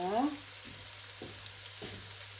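Plenty of onions fry in a pan for caldereta, giving a steady close sizzle with a few soft scraping stirs and a brief voice at the start.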